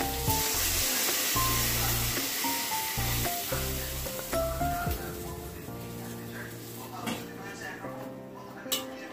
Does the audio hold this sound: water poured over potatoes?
yes